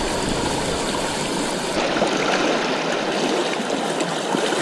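Strong river current rushing steadily at a fishing spot in Calumpang, Liliw, Laguna, a close, continuous broadband wash of flowing water with no pauses and no talk.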